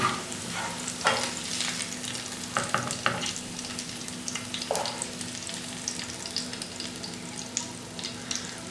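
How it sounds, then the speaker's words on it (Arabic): Onions frying in oil in a single pan: a steady, close sizzle runs throughout, with scattered sharp crackles and light scraping of stirring over the hiss, and no talking. "غادي نحط بصيل وغادي نستي فيه"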